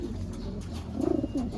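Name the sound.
racing pigeon cooing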